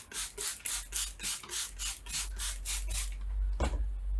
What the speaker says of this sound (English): So just spray the doily down